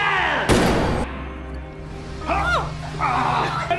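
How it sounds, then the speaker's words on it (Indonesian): A gunshot in the film House of Nine, a single sharp loud blast about half a second in, cutting through dramatic film music and rumbling tones, with brief swooping effects afterward. "Pastur menembak Max"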